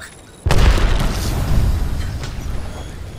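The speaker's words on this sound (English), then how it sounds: "They're throwing grenades." A grenade blast in the battle royale shooter Apex Legends, a sudden loud boom after a brief quiet moment, followed by a deep rumbling tail that slowly fades over a few seconds.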